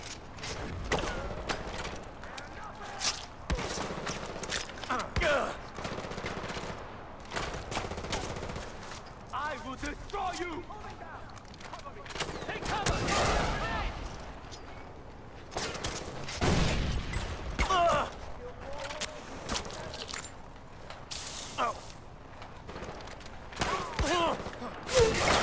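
Sustained automatic gunfire in the Far Cry 4 shooter game, with bursts and rapid shots rattling on and off for a long stretch over mechanical clatter, loud and near, with occasional voices mixed in.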